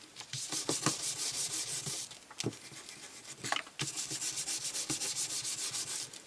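A bristle brush dabs paint onto a toilet paper roll craft in quick, repeated scratchy strokes, close and fairly loud, with brief pauses between bursts of dabbing.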